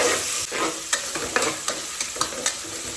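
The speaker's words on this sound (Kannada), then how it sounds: "2 ಈರುಳ್ಳಿ ಚೆನ್ನಾಗಿ ಫ್ರೈ ಮಾಡ್ಕೊಳ್ಳಿ" Two chopped onions fry in a pan on a home stove, with a steady sizzle and a spoon scraping and stirring in a regular rhythm, close by and with no talking.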